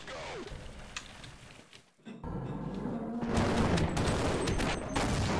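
An SMG grenade launcher fires in Half-Life 2, a burst of loud gunfire followed by a brief drop-out and then a sustained, dense roar of blasts and rumbling explosion noise.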